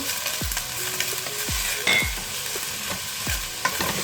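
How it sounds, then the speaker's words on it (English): Onions frying on a gas stove for butter chicken, a steady close sizzle with a few sharp scraping stirs and clinks of a utensil against the pan, no one talking. "I'll just braise the onions like this for quite some time"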